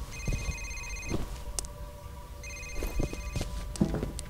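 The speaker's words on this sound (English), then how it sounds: "The phone! The phone! Where is it?" A telephone in the F.E.A.R. shooter game rings in two bursts of repeated electronic trills with a gap between them, moderately loud, mixed with footsteps and thuds.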